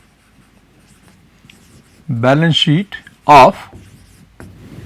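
Chalk or marker writing a balance sheet heading on a board in a lecture room, faint scratchy strokes near the start and end, with a voice speaking between them.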